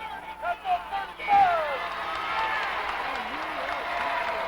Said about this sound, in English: And Marquette was clapping.